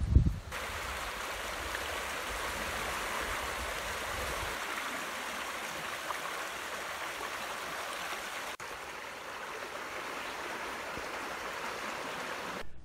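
The Manistee River flows past bottomland forest, a steady soft rush of running water with a brief louder bump at the very start.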